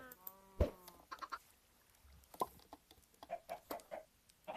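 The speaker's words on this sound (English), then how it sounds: "I've got plenty of chickens." Chickens cluck in a farm video game, with several short separate calls and a brief squawk scattered through the clip against a faint background and no talk.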